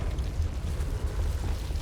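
Confringo fire spell blast in Hogwarts Legacy, a dense, rumbling explosive roar with strong low-end booms and crackle, loud and sustained across the moment with no talk.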